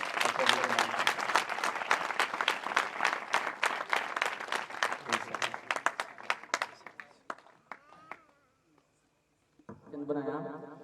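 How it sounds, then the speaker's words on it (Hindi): Audience at a Christian gathering (Masih Sammelan) in Langarkot, Gurdaspur, claps loudly and steadily for several seconds, the applause thinning into scattered claps before fading to near silence, then a brief burst of voices returns. "जोर से ताली बजा के धन्यवाद"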